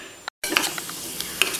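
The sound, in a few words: mixing powdered sugar and semolina in a pan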